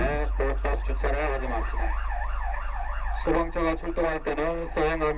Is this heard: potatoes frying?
no